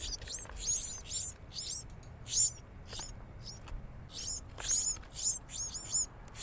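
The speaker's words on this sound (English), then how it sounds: "The bird family at the hut." Small birds chirp at a hut, rapid high twittering calls in clustered bursts throughout, fairly close, over a low steady background murmur.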